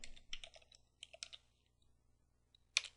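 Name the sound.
typing a command on a computer keyboard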